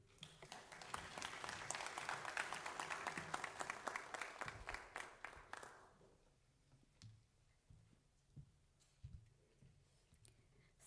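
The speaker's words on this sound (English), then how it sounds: "A big round of applause to His Excellency one more time" Audience applause at an international youth forum on SDGs and human rights, a dense burst of clapping for several seconds that thins to scattered claps and fades.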